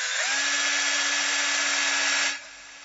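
A cordless drill with a 1.5 mm bit whirs steadily through plastic at close range for a couple of seconds, then winds down as the motor stops.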